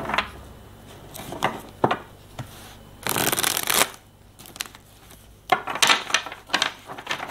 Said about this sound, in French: Je ne vais pas battre les cartes en fait, je vais les piocher, ça va être plus rapide.